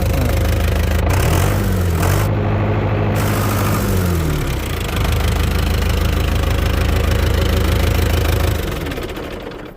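A Belarus 80X tractor diesel engine runs close by with a steady, loud, knocking idle, its low rhythmic chug holding throughout before easing slightly near the end, with no talk.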